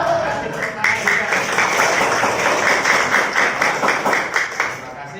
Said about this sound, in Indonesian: Kasih tepuk tangan juga.